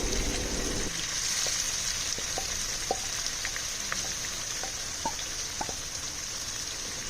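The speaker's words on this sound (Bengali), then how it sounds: "তেলটা গরম হয়ে আসলে এর মধ্যে আমি মাখানো মাছগুলো ছেড়ে দিচ্ছি" Marinated small fish fry in hot white oil for a traditional Bengali small-fish dish, giving a steady, soft hiss with scattered light pops. A brief low tonal hum sits under the first second.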